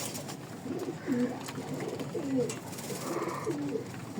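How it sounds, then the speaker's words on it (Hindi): Pigeons coo close by in soft, rolling low calls, several overlapping phrases repeating over a quiet background. "कबूतर ऊपर है, अगर कैमरे में आ सके तो ये देखें"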